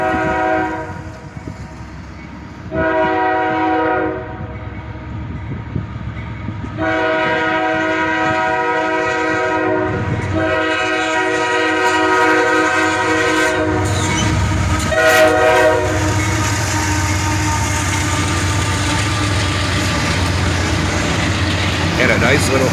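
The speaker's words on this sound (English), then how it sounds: "Had a nice little horn salute from the engineer there, with dual YN2 action as a pair of AC44 CWs lead this train." Dual YN2 horns on a pair of AC44CW locomotives blast a loud salute in repeated long sustained chords, then stay blaring over the steady rumble and clatter of the passing train.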